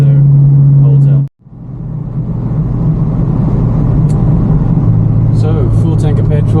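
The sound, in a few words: classic car driving on a country road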